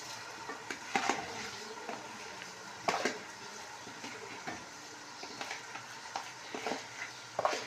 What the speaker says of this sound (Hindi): ये हमने देगची के अंदर चावल डालना शुरू कर दिए।